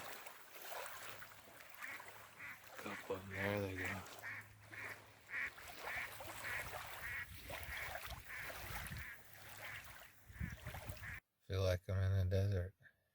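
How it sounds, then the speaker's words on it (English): Mallard duck quacks at a lake in Michigan's Upper Peninsula, several bursts of nasal calls in a loose series, the loudest near the end, heard at moderate distance over quiet outdoor background. "There's a mallard."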